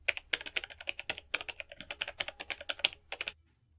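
Rapid, crisp keystrokes patter on a computer keyboard in a quick, uneven burst of clicks lasting a few seconds before stopping.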